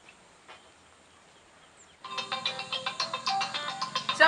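After two seconds of near silence, a mobile phone starts ringing with a bright, rhythmic electronic ringtone of rapid repeated pulses, clear and close, with no talk over it.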